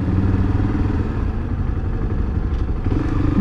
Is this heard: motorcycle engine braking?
yes